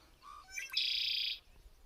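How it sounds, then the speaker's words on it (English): A red-winged blackbird calls outdoors beside a scummy pond or marsh in Michigan's Upper Peninsula, giving a short burst of chirps followed by a buzzy, trilling note, moderately close against quiet background. "Got a red-winged blackbird."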